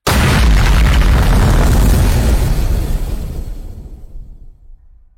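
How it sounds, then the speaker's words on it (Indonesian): A single loud, deep explosion bursts out and rumbles, then slowly fades away into silence over a few seconds. "tiba-tiba terdengar suara ledakan yang sangat keras"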